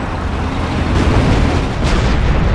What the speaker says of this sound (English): German half track has been destroyed.